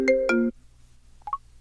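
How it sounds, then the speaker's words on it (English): An iPhone ringtone sounds for an incoming telephone call, two short melodic chimes close by, then quiet with a couple of faint tones. "I can use it to answer an incoming telephone call."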